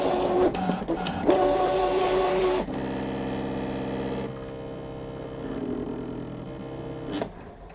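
A paper piercing machine runs another pass, giving a steady printer-like mechanical whine and hum with shifting tones and a few quick clicks, loud and close, with no voices, then stopping near the end.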